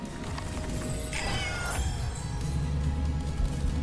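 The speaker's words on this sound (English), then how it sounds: "Look, he's a kitty!" A cat meows in a video game, a few clear mews over a steady, busy game soundtrack and background noise.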